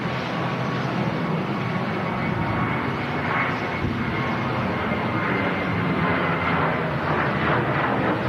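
A jet airliner performing a go-around at Manchester Airport, its engines giving a loud, steady roar that holds throughout with no talk over it.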